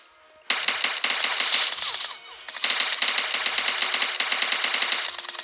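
Rapid automatic gunfire rattles in PUBG Mobile zombie mode, two close, loud bursts of fast evenly spaced shots separated by a brief pause, with no talking.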